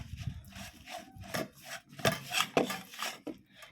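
Gram flour pakora batter with yogurt is mixed in a bowl, giving irregular close rubbing and slapping strokes in uneven pulses, with no talking.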